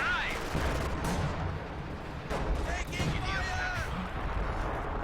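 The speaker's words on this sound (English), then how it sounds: "Looks like he's shelling the heavy mortar actually" Heavy mortar shelling in a Company of Heroes 2 2v2 match: dense, continuous rumbling blasts and crackling impacts overlap throughout, loud and busy, with a voice talking over the battle.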